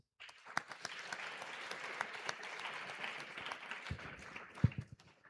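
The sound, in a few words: audience applause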